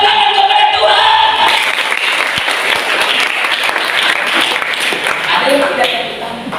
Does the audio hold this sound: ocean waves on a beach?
no